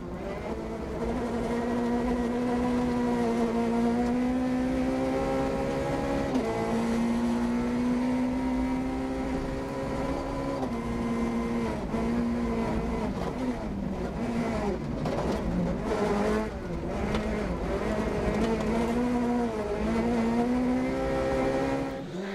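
A Peugeot 208 rally car races on a gravel stage in Haute-Marne. Its engine roars steadily throughout and rises and falls with gear changes, staying close and loud the whole time, with no talk over it.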